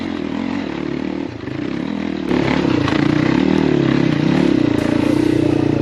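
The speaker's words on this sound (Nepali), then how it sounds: "हाम्रो बाइक स्लिप खाने यताउता भइरहेको छ" Off-road enduro motorcycle, a 250cc Crossfire or a 150cc, climbing a steep, slippery forest trail, engine loud and close, labouring and revving harder as it pulls upward with clattering from the terrain.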